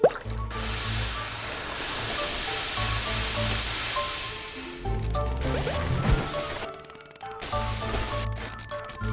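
Water flows and splashes through the Where's My Water? 2 puzzle game, with bursts of gushing and dripping layered over steady game music for most of the span.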